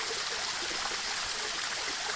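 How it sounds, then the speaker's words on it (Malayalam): Water from a mountain waterfall stream in the Kottayam hills of Kerala rushes in a steady, even hiss with no pauses, fairly close and without voices. "അങ്ങ് മുകളിൽ നിന്ന് വരെ വെള്ളച്ചാട്ടമുണ്ട്."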